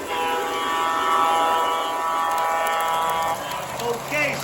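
A model railroad train runs on a long home layout with about 280 feet of track, making a steady rumble with horn-like tones while someone talks over it.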